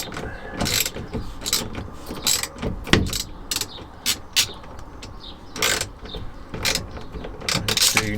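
A hand ratchet works a 13 mm nut loose on a classic Fiat 500 steering column, giving close, sharp clicking strokes in irregular bursts with brief gaps.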